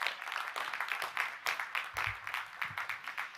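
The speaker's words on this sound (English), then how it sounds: "Let's give them a big round of applause." A fairly faint, steady patter of audience applause fills a university new student convocation hall, with no voices over it.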